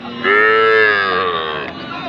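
A cow with her calf at the Raniganj cattle market lets out one loud, close moo lasting about a second and a half, with faint market background around it.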